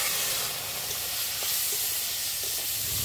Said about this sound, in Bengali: লবণ আর হলুদ দিয়ে কাঁকড়াটা ভালো করে ভেজে নিই।